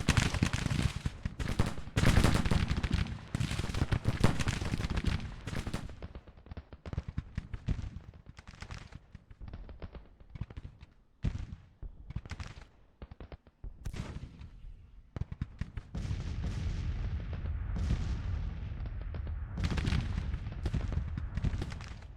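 A Civil War battle in a strategy game brings dense rifle volleys and booming artillery. The fire is loud and continuous at first, then breaks into scattered bursts and crackling shots with pauses, and builds again toward the end.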